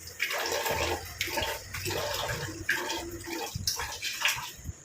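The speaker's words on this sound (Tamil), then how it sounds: "இப்போ நான் ஃபேஸை வந்து நல்லா வாஷ் பண்ணிட்டு வந்துடுறேன்" Running tap water splashing as a face is washed, a steady close rush of water with irregular splashes and brief dips, no talking.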